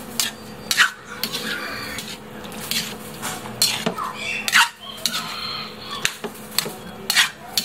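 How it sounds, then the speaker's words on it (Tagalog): Utensil scraping and clinking against a pan as bitter gourd and string beans are stirred, with repeated metallic taps and scrapes at an uneven rhythm, close and fairly clear. "Ngayon, ilagay natin itong ampalaya at sitaw. Haluin natin ng maigi."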